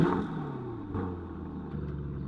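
Lamborghini Urus with an Akrapovic exhaust revving, a fairly quiet low engine drone with rising and falling pitch over a couple of seconds, heard alone.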